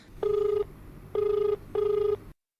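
Telephone rings three times in even bursts with short gaps, close and clear over low background hum, as an incoming call reaches a Hindi-language farming radio phone-in programme.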